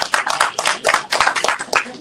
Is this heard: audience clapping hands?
yes